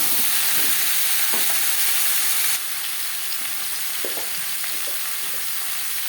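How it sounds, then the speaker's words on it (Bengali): Thinly sliced potatoes are stirred into hot oil with tempering spices, giving a steady loud sizzle of frying with occasional soft scraping stir sounds. The sizzle eases slightly partway through. "ফোড়নের সাথে আলু বেশ ভালো করে মিক্স করে দেবো"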